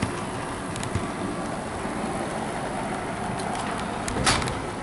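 A Bachmann Class 66 model locomotive in Fastline Freight livery runs smoothly on track, giving a steady, faint, continuous mechanical whir with a few light clicks, alone and without talk.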